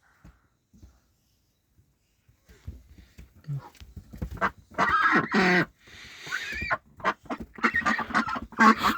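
Domestic ducks call close by, starting with scattered soft sounds and then building into bursts of loud, harsh honking quacks from several birds.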